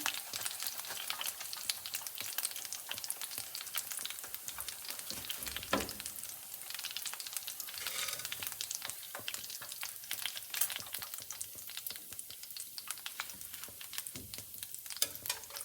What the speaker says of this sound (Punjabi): ਹੁਣ ਆਪਣੇ ਜਿਹੜੇ ਦੂਸਰੇ ਬੋਲ ਆਪਾਂ ਬਣਾ ਕੇ ਰੱਖੇ ਆ ਜਿੰਨੇ ਵੀ ਆਦਮੀ ਆਪਣੇ ਰਹਿੰਦੇ ਸੀ ਇਸ ਤਰ੍ਹਾਂ ਆਪਾਂ ਉਹ ਵੀ ਹੁਣ ਨਾਲ ਹੀ ਫਰਾਈ ਕਰ ਲੈਣੇ ਹੈਗੇ